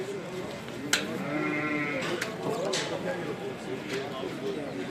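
Several woolly Sivas lambs bleat close by at a livestock market, overlapping wavering cries against a busy background of movement and low voices.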